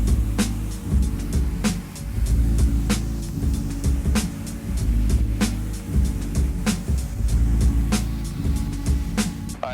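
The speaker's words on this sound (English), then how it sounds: "We're using a 40-degree nozzle, and we're using the AR630 power washer." An AR630 power washer with a 40-degree nozzle rinses a car, giving a steady, loud hiss of spray over a low pump drone, broken by brief sharp bursts as the stream sweeps across the body panels.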